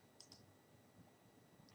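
A computer mouse gives a few faint, sparse clicks in near silence, ending with one louder, sharper click.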